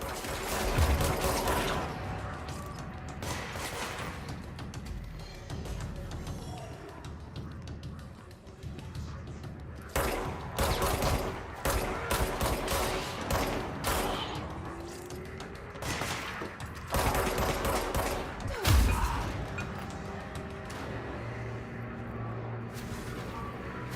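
Shotgun blasts ring out in the video game Control, heavy booming shots spaced several seconds apart, with mechanical clatter and action noise in between and no voices.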